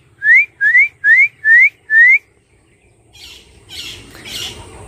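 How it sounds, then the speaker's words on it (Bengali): An Alexandrine parrot perched in a coconut palm calls back with five loud, clear rising whistles in a steady, evenly spaced run, followed by fainter rustling and distant noise. "তো দেখো পাখিটা সাড়া দিচ্ছে"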